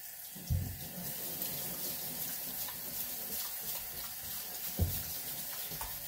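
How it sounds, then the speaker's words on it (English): Hot water runs steadily from a kitchen sink faucet into the basin, a continuous close splashing rush with a couple of soft knocks against the sink, no voices. "I use a little hot running water and I just start scraping the bottom of the sink."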